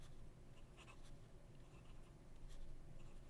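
Hongdian 8041 fountain pen with a medium nib writes on a leather notepad, giving faint, close scratching strokes in short irregular bursts against a quiet room.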